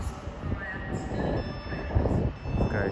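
A West Coast train from London Euston to Edinburgh rumbles through Crewe station on the West Coast Main Line, a close, rolling rail clatter with faint high tones and a brief beeping over it.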